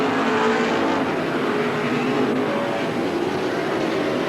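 Race cars roar around Midvale Speedway in 1980, a loud, continuous blended engine drone from several cars at once, with no break in the noise.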